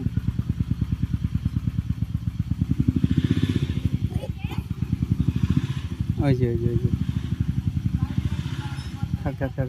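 A CD-engined motorcycle with an engine fault putters nearby in rapid, steady low pulses with a slight clatter, while someone speaks briefly over the running engine.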